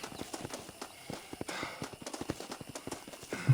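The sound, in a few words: horse hooves in the video game Red Dead Redemption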